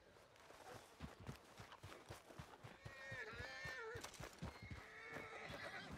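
A horse whinnies in a shaky, rising-and-falling call over steady hoof clops and shuffling, fairly close, with a second whinny following, in the video game Red Dead Redemption 2.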